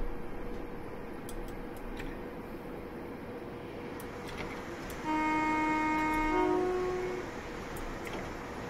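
A train in Train Simulator 2021 on the West Coast Mainline DC lines pulls into Queen's Park station, a low rumble with ticking under a two-second sustained horn tone midway.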